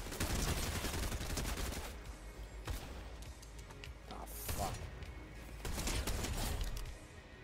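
Rapid gunfire bursts from the video game Fortnite, dense clattering volleys with brief lulls, fairly loud throughout with no clear talk over it.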